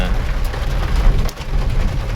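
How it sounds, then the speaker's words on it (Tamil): Rain pours in the Western Ghats mountains, a dense, loud, steady hiss of drops drumming on surfaces close by, with no voices. "இந்த மாதிரி மழை நேரத்தில்"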